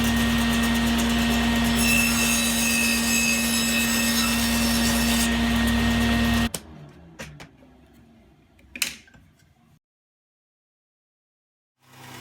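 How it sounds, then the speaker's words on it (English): A bandsaw cuts shoulder cuts in wood in a workshop, a loud steady whine with a strong hum that stops abruptly after about six seconds, followed by a few light knocks and handling noises, then near silence. "The remaining shoulder cuts were made using the bandsaw."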